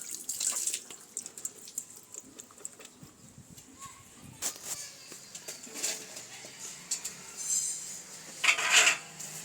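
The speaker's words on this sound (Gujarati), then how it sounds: "તો સૌથી પહેલાં તો આપણે ગુંદા ધોઈ લઈશું." Gunda fruits are washed by hand under running tap water in a kitchen sink, with intermittent splashing, dripping and faint rustling of the fruit, close and fairly quiet.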